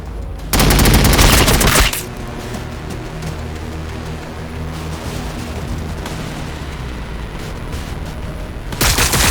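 Heavy gunfire rattles through a Warhammer 40,000: Battlesector battle, opening with a loud, dense automatic burst, then settling into a sustained roar of distant shooting and explosions before another sharp burst at the end.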